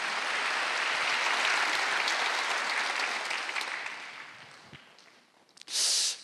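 A church congregation at a Wednesday worship service bursts into warm, full applause that holds for several seconds, then thins and dies away, followed by a brief sharp noise near the end.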